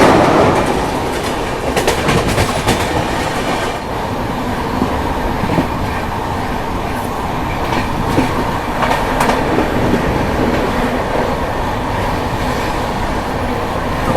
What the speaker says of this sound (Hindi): तो अभी फिलहाल हम लोग की ट्रेन चिल्का लेक के बगल से गुजर रही है।